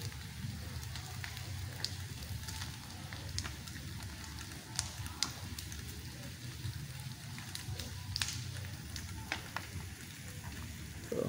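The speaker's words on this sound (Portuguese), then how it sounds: "Aí eu vejo o carro pegando fogo." A car burns in a street in Vila Regina, Itaquera, São Paulo, giving off a faint, steady crackle and hiss with scattered sharp pops, heard from some distance.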